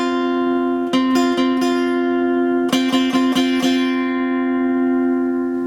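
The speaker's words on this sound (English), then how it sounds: "A perfect fourth sounds like this." A sustained low tone holds steady while higher notes are plucked over it in short bursts, sounding two pitches together as a perfect fourth interval.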